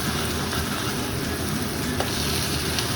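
Tofu skin frying in a pan with a little oil, a dense, steady crackling sizzle heard close up and alone, with faint stirring clicks.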